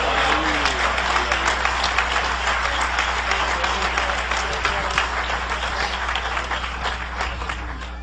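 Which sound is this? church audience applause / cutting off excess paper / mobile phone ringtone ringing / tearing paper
church audience applause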